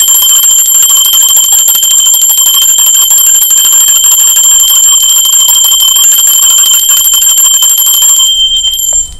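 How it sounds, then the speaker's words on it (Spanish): A loud metal bell rings continuously with a bright, sustained sustained tone and steady shimmering overtones for about eight seconds, then cuts off abruptly. "Utiliza la frecuencia de la campana para manifestar, para agradecer"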